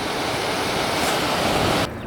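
Water rushes at Mill Ruins Park in downtown Minneapolis, a loud, continuous broadband roar of falling water that cuts off abruptly near the end.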